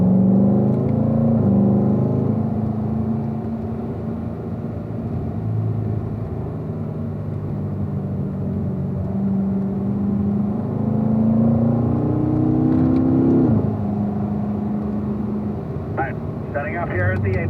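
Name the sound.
car accelerating on a driving course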